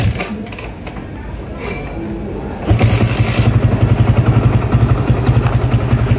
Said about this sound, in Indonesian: Kita akan engkol karena motor ini nggak bisa starter ya.